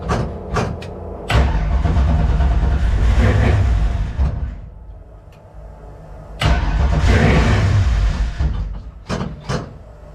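A 1967 Ford Mustang being prepared for road racing cranks and fires, two loud rough bursts of engine noise with sputtering catches and a pause in between, close by.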